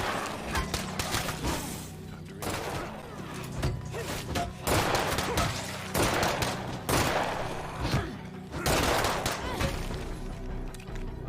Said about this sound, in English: I just stood up here and I shot them